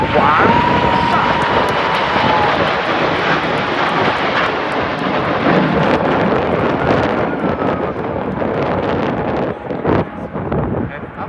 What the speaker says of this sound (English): after the amazing crossing of the arc of Freccia Tricolori